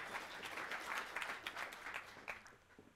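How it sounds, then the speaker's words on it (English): An audience at a student startup pitch finale applauds a team after its pitch. The clapping is brief and fairly faint, heard from a distance, and fades over about three seconds. "Give them one more round of applause, please."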